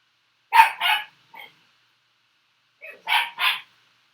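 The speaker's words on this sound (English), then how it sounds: "She's barking. Can you guys pick up the dog," A small dog barks indoors in two short bursts, a pair of sharp barks with a softer yip after them, then a pause and another pair of loud barks close by.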